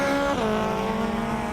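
Improved Production under 2-litre race cars screaming at full throttle through a field at a circuit, a loud sustained engine howl that dips in pitch on a gear change, with faint tyre noise.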